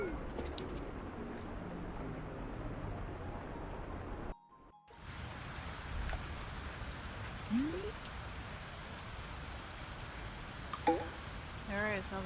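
Steady rain falls in the farming game Fields of Mistria, a constant hiss throughout with faint bird coos and small chirps over it and a brief dropout midway, with no talking.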